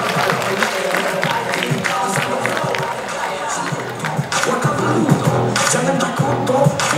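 An audience applauds and cheers for a guest, Kamal Adli, at a lively show, with continuous clapping and crowd noise and voices talking throughout.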